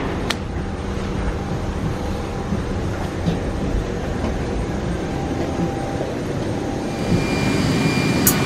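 Airport ambience at Indianapolis Airport, a constant broad roar of aircraft engines and hall noise that swells slightly toward the end, with a couple of brief clicks and no clear talk.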